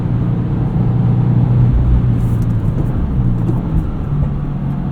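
A 2025 Subaru WRX tS engine droning steadily from the cabin while driving, a constant low hum with road noise underneath and no speech.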